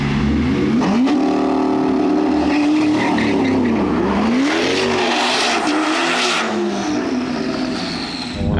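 Chevrolet Corvette C8 ZR1 and ZR1X race side by side, loud engines roaring and climbing through gear changes close by, with tires squealing briefly and a steady high whine that fades toward the end.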